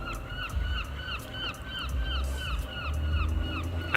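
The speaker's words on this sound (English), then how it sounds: "And a seagull." A seagull at the beach calls in a run of repeated nasal, honking cries over faint wind and shore noise.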